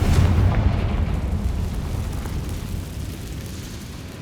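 A Confringo blasting spell goes off in the Hogwarts Legacy video game, a loud low boom at the start that rumbles and slowly fades over several seconds.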